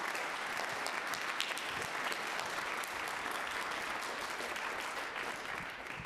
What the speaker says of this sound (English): let's give a round of applause for all of our band volunteers.